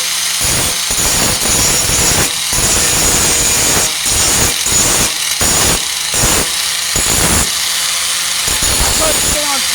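Power grinder working down rust on a 1998 Ford Ranger tailgate, a harsh continuous loud grinding with rhythmic surges as the wheel moves over the metal, close and filling the whole stretch.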